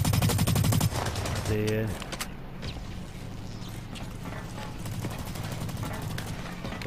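Rapid machine-gun fire in the video game Blacklight Retribution, a dense burst up front and then a steady rattle of distant shots, with a player's voice talking briefly over the game.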